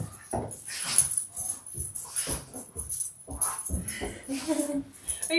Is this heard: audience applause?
no